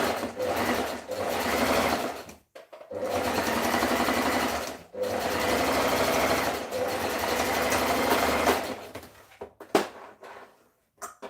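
Several bursts of a sewing machine running along a dress seam, close and loud, each run lasting a couple of seconds with short pauses between, ending in a few sparse clicks.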